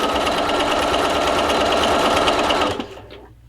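Sewing machine running a steady 2.0 regular stitch with a standard foot, tacking vintage trim onto a quilt; loud continuous whirring for almost three seconds, then it stops and falls quiet.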